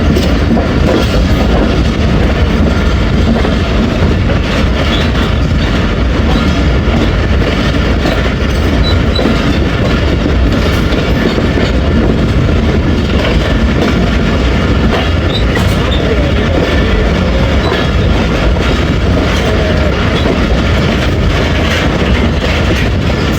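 The Rehman Baba Express train runs between Rawalpindi and Faisalabad, a loud continuous rumble of wheels on rail with rhythmic clickety-clack and occasional squeals heard from on board.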